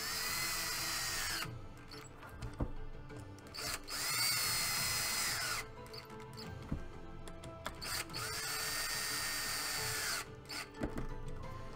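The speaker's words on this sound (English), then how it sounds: "I'm putting screws into these foot plates." A power drill drives screws into the foot plates of a puppet build, with several whirring bursts that rise and stop between brief pauses, close by and moderately loud.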